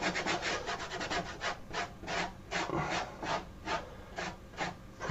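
Oil paint heavily loaded on a brush scrubs firmly across canvas in a series of rhythmic rasping strokes, close and fairly loud, with no talking.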